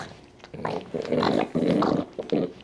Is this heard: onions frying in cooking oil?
no